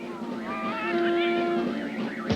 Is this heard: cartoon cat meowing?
yes